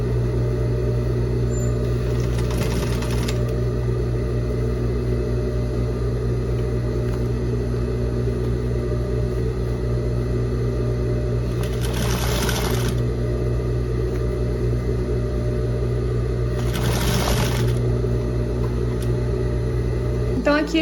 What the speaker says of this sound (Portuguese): Tem que costurar agora com ela, tem que costurar esticando